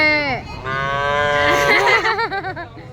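A small Gir cow moos loudly and close by, one long sustained low call that wavers and breaks up toward its end, with no voices over it.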